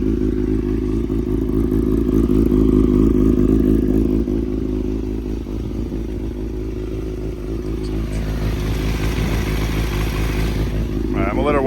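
A 2017 Badass Industries 636 motorcycle idles while warming up, a loud, steady low engine rumble close by with a faint rising whine toward the end.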